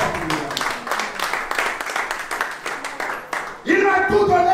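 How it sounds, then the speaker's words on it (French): A church congregation claps at an evangelistic service, a crowd's rhythmic applause with voices mixed in for several seconds before it breaks off and a loud voice rises above a sudden burst of noise. "Applaudissons de ça."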